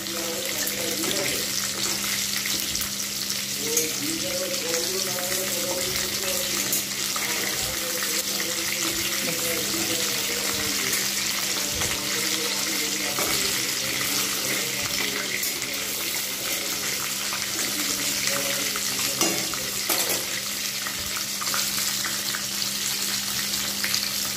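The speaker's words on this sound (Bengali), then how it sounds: "একটু ধীরে সুস্থে ভাজতে হবে যাতে ভিতরটা যেন ভালোভাবে কুক হয়" KFC-style crispy chicken fries slowly in hot oil with a constant close bubbling sizzle and a low steady hum beneath it, and no one speaks.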